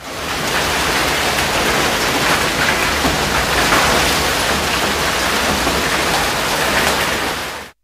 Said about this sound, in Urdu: بارش کے ساتھ ژالہ باری نے موسم انتہائی حسین بنا دیا۔